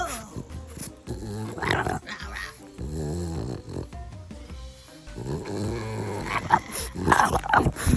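A French bulldog growls and grumbles in low, rough bursts across the span, close to the microphone, with a voice speaking over and between the noises.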